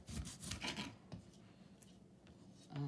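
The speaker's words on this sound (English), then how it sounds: "I'm just gonna go ahead and cut off the end of it." A sharp kitchen knife slices the end off a fresh aloe vera leaf, giving a short rasping cut with a few scraping strokes, then a lone tap and a final scrape, close and fairly quiet.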